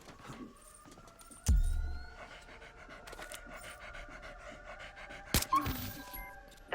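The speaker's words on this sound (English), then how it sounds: "There was a dog in the apartment." A dog pants in the stealth video game Splinter Cell Blacklist, faint rapid breathing inside an apartment under quiet game ambience, with a couple of louder thuds along the way.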